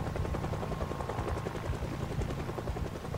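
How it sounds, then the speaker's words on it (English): Helicopter flying overhead in the video game Project Zomboid, a loud, steady rotor chop with a dense rumbling drone that stays constant and close for the whole stretch, no voices. "if the chopper is even following me"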